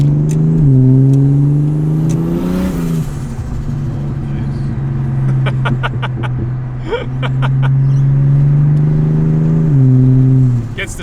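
A naturally aspirated car's engine revs and pulls hard through the gears, a steady loud drone with rising harmonic sweeps and shifts, with brief clicks and ticks in the middle and no speech.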